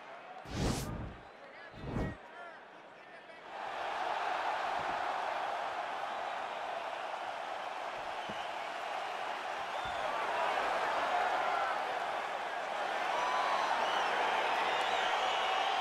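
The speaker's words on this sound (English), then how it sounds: "This is as loud and as knowledgeable a crowd as we'll experience really all year on the UFC Roadshow." Arena crowd noise at the Bell Centre in Montreal in the UFC 4 video game: two short bursts, then a sustained wash of cheering that swells gradually, loud and continuous.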